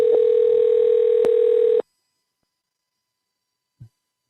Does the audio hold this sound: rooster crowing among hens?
no